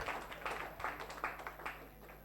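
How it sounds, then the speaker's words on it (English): Faint applause from a youth audience at a talk event, a quick run of rhythmic clapping over room hum that stays low and thin throughout. "Give yourselves a round of applause again."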